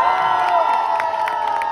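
A loud live crowd at a performance at Macaco Brewpub in Jaipur cheers and whoops continuously, with some clapping mixed into the sustained roar.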